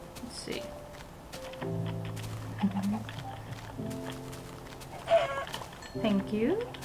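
Chickens in the Minecraft video game give short clucks and squawks in bursts, heard over a background of game music while a voice talks now and then.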